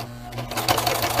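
A sewing machine stitching fabric, a short burst of rapid mechanical needle clatter at close range that picks up and runs steadily, with no talk over it.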